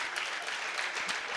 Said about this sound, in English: Let's give one big round of applause for Coach here as he gets ready to head back to Madison.